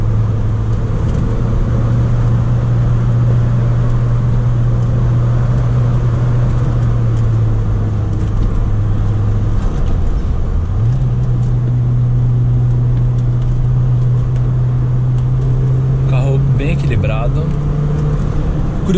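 A 1995 Audi with a manual gearbox drives along a road, recorded from inside the cabin: a steady engine drone and road rumble with pitch shifts around a gear change, and someone talking over it.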